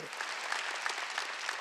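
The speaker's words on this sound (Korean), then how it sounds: "박수야" A church congregation at a Wednesday worship service breaks into applause, a short burst of steady, fairly loud clapping from many hands with no speech over it.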